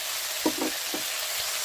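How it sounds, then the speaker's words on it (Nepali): Greens fry in a pan in a village kitchen, giving a constant close hiss and sizzle with a few soft stirring knocks, no voices. "मेरो साग भुटिक्यो"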